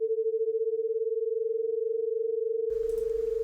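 Two slightly detuned sine waves sound together as one steady, pure mid-pitched tone that pulses in a regular, fast wobble as the pitches beat against each other. A brief rustle of noise joins near the end.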